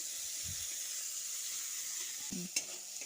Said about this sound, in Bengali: এবার পেঁয়াজটা একটু ভেজে নিচ্ছি